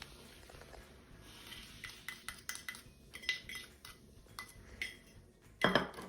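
A spoon clinks and scrapes quickly against a small bowl while vinegar and baking soda are mixed for vegan chocolate chip muffins, close-up and rapid, ending in a brief fizzy clatter.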